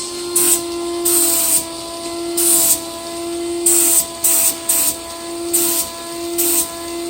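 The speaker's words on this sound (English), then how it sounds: "this is the final coat of the filler that he's putting on from KBS" A spray gun lays the final coat of KBS filler on a 1959 Chevy truck in short hissing bursts, about eight of them, loud and close over a constant motor drone.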